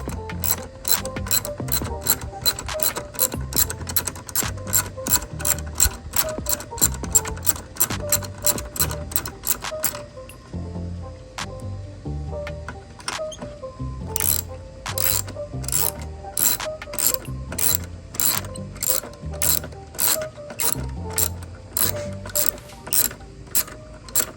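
Ratchet wrench loosening the long battery bracket bolt on a 2018-2022 Honda Accord, a fast steady run of sharp clicks close by with a brief pause partway, then resuming.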